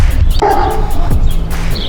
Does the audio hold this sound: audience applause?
no